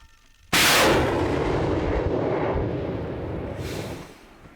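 A single loud artillery blast booms suddenly on the eastern front in Ukraine, followed by a long rumbling roar that slowly fades over several seconds.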